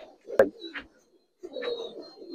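A silver Giribaz pigeon coos in two short bursts with a pause between, close and fairly clear, accompanied by a sharp tap and faint background noise.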